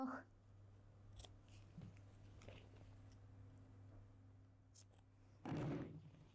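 Fabric shears snip notches into a coat's neckline, giving a few sharp, close cuts scattered across a quiet room hum, with a heavier crunchy cluster of snips near the end.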